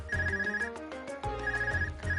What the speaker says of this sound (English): Is that your Arcus ringing?